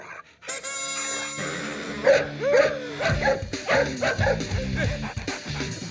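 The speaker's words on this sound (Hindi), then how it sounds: "अबे कुत्ते, गाड़ी के अंदर बैठ के भौंक रहा है," A dog barks repeatedly from inside a car, yipping and whimpering in an irregular run of sharp barks close by, with a voice speaking over part of it.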